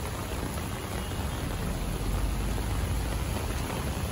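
Steady rain pours down on a flooded street in heavy afternoon traffic, a continuous dense hiss at constant loudness with no voices.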